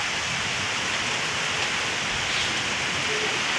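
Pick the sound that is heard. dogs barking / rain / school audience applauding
rain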